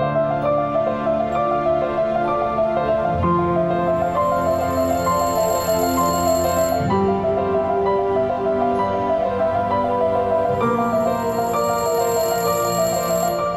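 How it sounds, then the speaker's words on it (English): A telephone ring chimes in repeating trilled bursts over a dense layer of music, loud and continuous with no speech. "there's literally almost a phone ringing"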